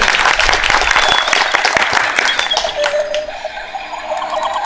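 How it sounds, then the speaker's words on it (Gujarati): An audience at a cow-shelter event for a buttermilk distribution and the opening of a grass storehouse gives loud, dense clapping close by. The applause tapers off after about three seconds as a voice comes through. "એના માટે એક વખત બધાય જોરદાર તાળી દો।"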